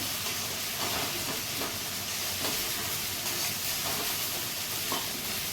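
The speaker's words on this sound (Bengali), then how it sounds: "এখানটা আদা রসুন পেস্ট দিয়ে দিচ্ছি আমি। পেস্টটা দিয়ে দিই। এটা একটু লাল করে ভেজে নেবো" Ginger garlic paste frying in oil in a pan for a fish curry, a continuous hissing sizzle with soft stirring scrapes, close and fairly loud, steady across the whole stretch without any voices.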